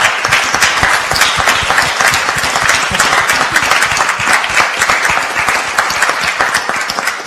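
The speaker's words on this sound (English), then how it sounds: "there are guys behind you that deserve a round of applause for them." Dense, sustained applause from a large audience honouring a team at the sTARTUp 2014 event, loud and even throughout with no talk on top.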